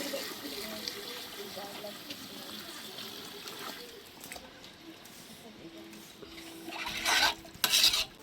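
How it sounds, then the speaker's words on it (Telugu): Measured water is poured into a pot of cooking chicken biryani, giving a brief close splashing rush near the end over a low kitchen hum, with people talking. "కొలత నీళ్ళతో పోస్తుంది వదిన."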